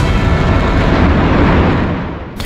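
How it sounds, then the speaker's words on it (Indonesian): A large explosion in the Greater Tel Aviv area after air raid sirens, heard as a continuous loud broadband roar and rumble throughout, with no voices. "ledakan besar terdengar di wilayah Tel Aviv Raya"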